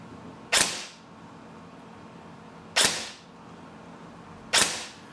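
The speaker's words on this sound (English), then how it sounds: "I like how it counts the shots on this chronograph" A Tokyo Marui M4A1 Socom airsoft gun fires three single shots through a chronograph in a workshop. Each is a sharp, close, snappy crack, spaced about two seconds apart against a quiet background.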